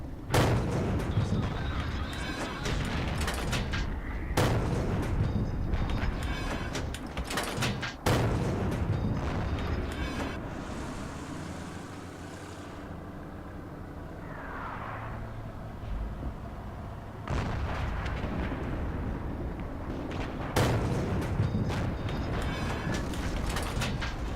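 Several loud, sharp tank cannon blasts in a video game ring out at intervals amid mechanical rumbling and clanking, with a quieter stretch in the middle.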